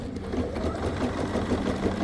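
A sewing machine embroidery module stitches couching at an even pace, its motor whirring with a rapid, regular mechanical chatter that carries on steadily and alone.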